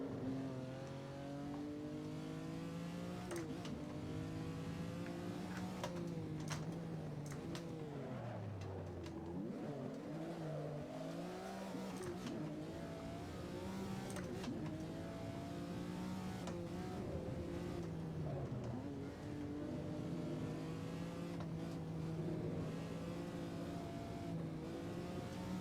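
A small block Ford engine in a 1970s Trans Am race car at Sonoma Raceway in a racing video game, revving hard and climbing through gears with a steady, loud drone and brief dips between shifts.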